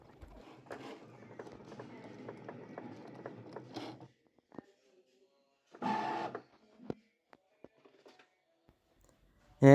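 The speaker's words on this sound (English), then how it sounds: "Once you hit the play button, it will then begin to cut." A Cricut cutting machine cuts heat transfer vinyl on a cutting mat. A mechanical whirring and ratcheting runs steadily for several seconds, then breaks into separate short motor bursts and clicks with quiet gaps between them.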